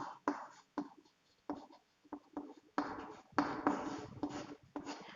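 Chalk or marker strokes on a classroom board during a physics lesson, a series of short scratchy bursts with pauses between them, moderately close and fairly quiet, with no talk over them.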